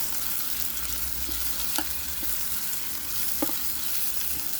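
Holy basil stir-fried in a pan with a splash of water before pork goes in, giving a soft continuous sizzle with a few light spatula taps, close and quiet.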